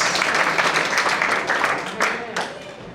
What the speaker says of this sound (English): give a clap to the boys